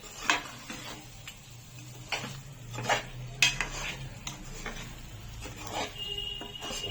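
A utensil scrapes and taps against a pan while egg curry with gravy is stirred, irregular metallic clinks and knocks over a faint low sizzle, close and clear with no talking.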